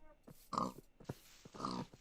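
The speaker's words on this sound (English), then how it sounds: "There's a bunch more pigs." Minecraft pig grunts from the video game, a few short nasal oinks spaced irregularly over two seconds, fairly close and clear against a quiet background.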